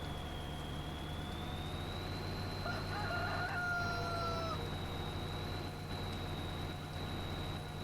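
Chickens and a rooster in the Farming Simulator 2013 video game, with one rooster crow standing out over a steady bed of clucking fowl, engine hum and a constant high electronic tone.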